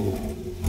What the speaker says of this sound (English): I might have the best sounding Cayman in the flipping world.